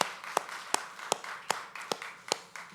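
A church congregation at an evening prayer service claps together in a steady unison rhythm, about seven sharp, evenly spaced claps at moderate distance with no talk.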